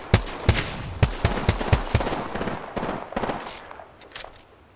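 Video game firefight gunfire: several sharp, loud shots in quick succession, followed by rapid rattling bursts that fade toward the end.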